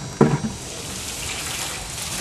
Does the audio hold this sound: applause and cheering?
no